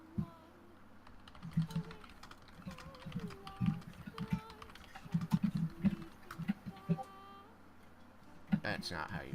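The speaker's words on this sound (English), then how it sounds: "I was typing a word." Computer keyboard typing during a Dungeons & Dragons tabletop session: soft, irregular key clicks in short bursts, heard faintly beneath people talking.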